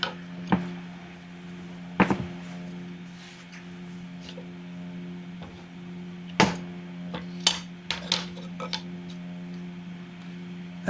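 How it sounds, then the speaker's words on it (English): Chisel cleaning the edges of a wooden mortise for a small kitchen shelf, heard as scattered sharp knocks and scraping taps over a constant low hum, irregular and moderately close, with no talking. "here I'm basically just cleaning out the edges of the mortise with a chisel"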